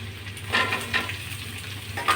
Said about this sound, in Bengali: এবার আমি কুচিয়ে রাখা পেঁয়াজগুলো দিয়ে দিচ্ছি